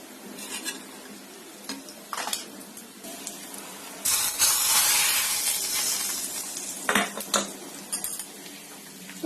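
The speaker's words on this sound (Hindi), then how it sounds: "तो दाल में तड़का लग गया।" Tadka for dal sizzling in hot oil in a home kitchen, a steady hiss that swells loudly midway, with clinks of utensils and pans scattered throughout and no talking.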